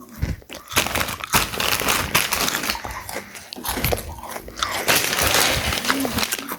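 Crunchy junk-food snacks bought in Europe are bitten and chewed close up, with repeated loud crackling crunches and packaging crinkles running steadily throughout, no talking.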